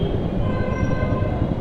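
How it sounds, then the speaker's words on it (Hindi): Steady train rumble at Varanasi railway station, a continuous loud low-frequency drone with faint tonal hum, no voices. "तो ये है वाराणसी रेलवे स्टेशन।"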